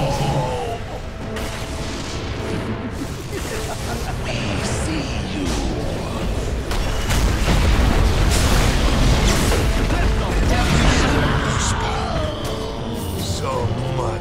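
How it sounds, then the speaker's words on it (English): Dota 2 tower under attack: dense, loud booming explosions and battle clatter keep rolling throughout, with shouting voices mixed into the din. "Radiant's bottom tower is under siege. Tower is being attacked."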